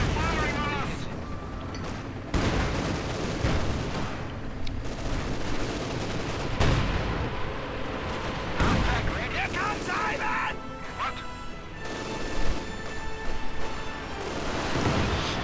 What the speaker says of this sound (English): Heavy mortar fire